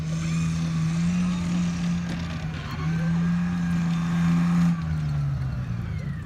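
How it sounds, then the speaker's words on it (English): Scorpion CVR(T) tracked light tank driving past during a Gulf War parade and demo at a tank museum, a steady loud engine drone with a low hum that shifts pitch slightly, continuous throughout. "the Scorpion is pretty much one of the last light tanks in world history."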